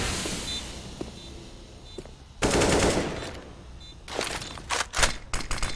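Desert Eagle pistol fire in a competitive CS:GO match, with a sustained loud burst of shots followed by several sharp, closely spaced bangs near the end.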